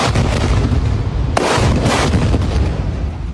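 Missile strikes in Gaza, Palestina produce a heavy, rumbling boom with a sharp burst partway through, set against a loud, continuous low roar.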